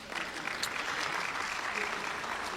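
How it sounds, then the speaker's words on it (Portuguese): Audience at a municipal culture conference lecture applauds, a steady, dense wash of clapping from a crowd that holds evenly throughout, moderately distant. "Pode aplaudir."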